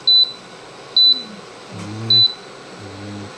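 Three short, clear electronic beeps sound at a steady pace from an infrared cooker's timer as it is being set, with faint low voices talking quietly in the background.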